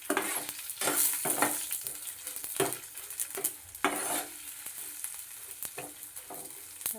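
Cumin seeds fry in hot oil, a fairly quiet crackling sizzle punctuated by irregular metallic spoon scrapes against the pan.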